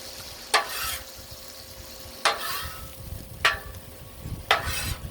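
Vinegar hits a hot griddle in four sharp splashes of hissing sizzle, each fading into a crackling fry between bursts, close and fairly loud.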